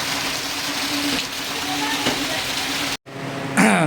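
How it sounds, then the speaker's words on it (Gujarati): Strong wind blows outside during a heavy village rainstorm in Asjol, a loud broadband roar that holds steady, cuts out abruptly for an instant, then returns with a faint voice at the very end. "મને ખબર છે કે બહુ પવન છે બહાર,"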